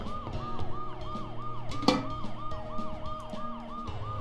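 Ambulance siren from the video game Dead Synchronicity, wailing in a steady repeating up-and-down cycle over a low rumble, loud and continuous, with one sharp knock partway through.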